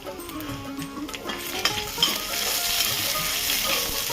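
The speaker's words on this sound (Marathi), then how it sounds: "मिरची छान भाजून घ्यायची। धणे, जिरं, काळी मिरी, बडीशेप सगळं घालायचं।" Dry chillies, coriander seeds, cumin, black pepper and fennel roasting in a pan for Mangalorean chicken sukka, a steady rustling crackle that builds into a denser continuous hiss, with a couple of spoon taps.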